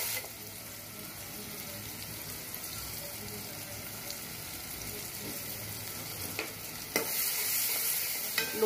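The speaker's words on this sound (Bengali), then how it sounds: "পেঁয়াজটা ভাজা হতে থাকুক, আমি পেঁয়াজের সাথে কিছু কাঁচামরিচ অ্যাড করে দিচ্ছি।" Sliced onions and green chillies frying in a pan, a steady close sizzle with scraping stir strokes and a few clinks, growing brighter and louder near the end.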